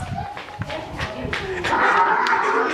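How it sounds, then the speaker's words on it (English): Donkeys fighting outdoors on a hike, harsh braying calls and scuffling noises close by, mixed with people talking. "Who's fighting? The donkeys."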